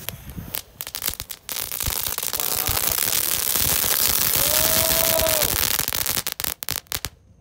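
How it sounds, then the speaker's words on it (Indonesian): Four packs of kretekan firecrackers lit together at night during Ramadan burst in a long, dense crackling barrage, loud and continuous for several seconds before tapering into scattered final pops. "yang pertama kita nyalakan mercon kretekan sebanyak 4 pak. Sekaligus kita nyalakan"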